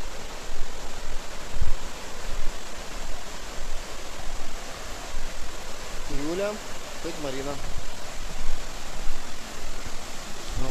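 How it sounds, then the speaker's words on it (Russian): Steady broadband rush of the Dzhur-Dzhur waterfall on a hike, a continuous roar of falling water heard from a distance, with people talking briefly over it. "Ну вон сам водопад."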